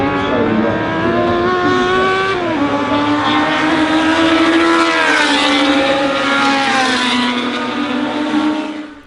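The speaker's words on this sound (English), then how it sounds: "They are powered by 1-litre Ford engines," Early-1970s Formula 3 race cars with 1-litre Ford engines scream past at high revs during qualifying, a continuous loud engine wail with shifting pitch as cars pass close by, no voices.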